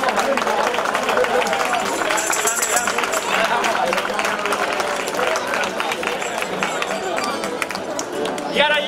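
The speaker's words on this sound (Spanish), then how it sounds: "Un fuerte aplauso para estos tres." Applause and crowd noise fill a hall at a Seville tuna competition, a dense, steady wash of clapping for three student tuna performers, with a voice talking over it throughout.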